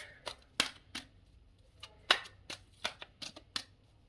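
Tarot cards are shuffled by hand in a quiet room, a series of crisp, separate riffling snaps and flicks at uneven intervals, close and soft with no speech.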